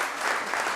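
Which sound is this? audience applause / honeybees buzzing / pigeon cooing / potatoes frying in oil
audience applause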